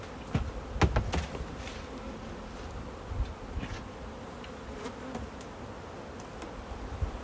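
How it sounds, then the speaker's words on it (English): Honey bees buzz around an open hive colony being converted to a Flow super, a steady insect drone with individual bees zipping close past now and then, no talk. "Look at all these bees. Look how strong this colony is."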